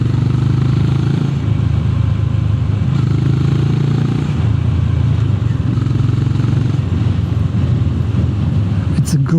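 A Honda GB 350 S motorcycle's exhaust grunts in a steady, loud low rumble for the full stretch, with some wind buffeting and clatter, and a voice talking over it.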